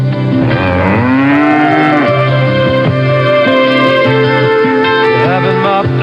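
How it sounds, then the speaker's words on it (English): An electronic cow moo used as a radio station time signal on WCFL Chicago in 1974, a loud, sustained synthesized lowing with sliding tones, heard alone for several seconds. "the sound of the electronic cow"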